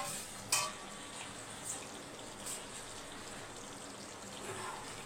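Sardines go into a simmering tamarind fish curry in a pan, giving a soft bubbling and sizzling bed with a couple of brief splashy clicks, quiet and close.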